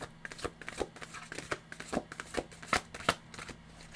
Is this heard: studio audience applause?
no